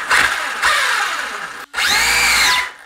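A 4S RC car's electric motor screams on the throttle in loud, high-pitched bursts, rising and falling in pitch, with a brief gap between two revs.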